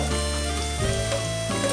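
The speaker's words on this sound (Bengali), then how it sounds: "বোঁদেগুলো ভাজা হয়ে গেছে" Boondi fries in hot oil with a continuous dense sizzle and bubbling hiss, close and steady, under a faint background hum.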